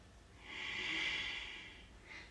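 One slow, airy breath drawn in and released during a yoga pose in a seniors class, close and soft, swelling and fading with a brief second breath at the end.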